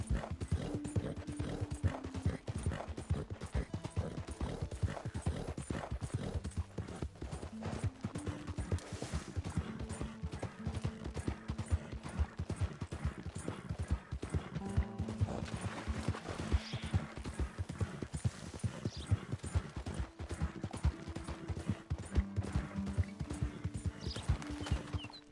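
Horse hooves clip-clop steadily in Red Dead Redemption 2, a long run of crisp, evenly paced hoofbeats, fairly close and prominent, with faint tonal game sounds underneath.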